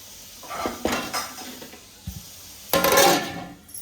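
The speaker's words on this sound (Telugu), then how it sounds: "సో ఇప్పుడు మనం మూత పెట్టేసి మగ్గిద్దామండి ఒక 2 మినిట్స్" A lid is set onto a pot of murrel fish curry (korramenu pulusu), with a couple of metallic clanks and knocks, the last one a louder rattling clatter, over a quiet kitchen background.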